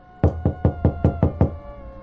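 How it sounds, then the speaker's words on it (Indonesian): Seven slow, heavy knocks land on a wooden door at an even, deliberate pace, each a loud, close thud with a short ringing decay, then silence. "suara ketukan pelan tapi berat di pintu kayu"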